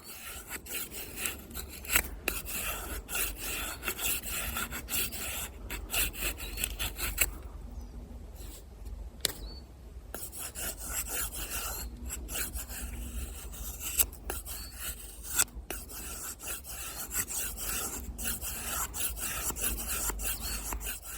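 An Opinel No. 8 carbon steel knife with its factory edge scrapes and rasps along wood while carving feather sticks. Repeated close strokes dig in deep, broken by brief pauses and sharp clicks, and no one speaks.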